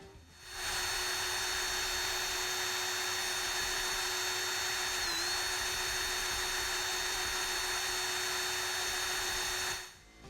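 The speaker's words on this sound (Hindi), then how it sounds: "अगर आप सेब को ड्रिल मशीन में फंसाकर छीलने वाले चाकू को उस पर रखेंगे तो सेब झट से छिल जाएगा" An electric drill spins an apple pressed against a peeling knife, giving a steady, loud, high-pitched whine that starts abruptly, holds level for about nine seconds, then cuts off, with no talking.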